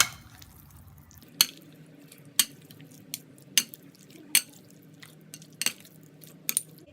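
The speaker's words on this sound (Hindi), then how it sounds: "इसमें हम डालेंगे दही, हाफ कप, और इन सब चीज़ों को मिक्स कर देंगे।" Yogurt, spices and chicken mixed in a bowl for a chili chicken fry masala, with a spoon knocking sharply against the dish every second or so over a soft wet squelch, close and without talk.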